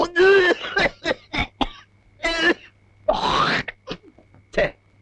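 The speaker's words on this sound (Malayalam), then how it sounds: "കുത്തി കുത്തി ഒരു ചുമ എങ്ങനെയാ മാറണേ?" An older man hacks out a run of repeated coughs and throat-clearing on the veranda of a house in a Malayalam film scene. The coughs come in short, uneven bursts, close and fairly loud, with no talk between them.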